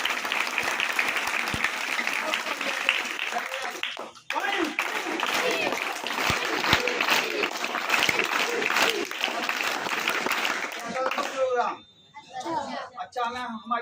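Students in a higher secondary school assembly in Harpalpur, Chhatarpur clap loudly and steadily as a dense crowd for about eleven seconds, with a brief dip midway, then the applause cuts off and a voice speaks.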